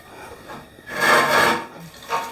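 A pull-start cord is yanked on a vintage 1971 Manco go-kart engine, giving a close, loud rasping whir that swells for about a second then trails off, with a shorter second pull near the end.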